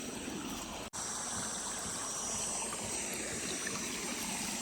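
Irrigation water running through a channel in a farm field, a steady broadband rushing flow with one brief dropout near the start and no voices.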